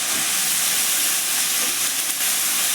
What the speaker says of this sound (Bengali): আমি একসঙ্গে ভেজে নেবো, কারণ এইগুলো বলতে ভেজে, ওই জন্য আলুর সঙ্গে সব সবজি ভেজে নেবো